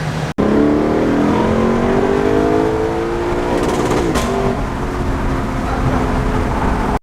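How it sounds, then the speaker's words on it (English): Lexus LC500 V8 exhaust revving, a loud, deep rising and falling burble heard close, with a sharp blip near the end. "But the exhaust sounds so good."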